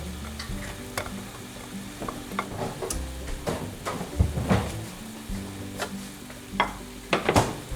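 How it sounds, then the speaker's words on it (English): Egg and milk whisked together in a bowl in a home kitchen, irregular close clinks and scrapes over a steady background sizzle. "So now I'm just whisking the egg and the milk together."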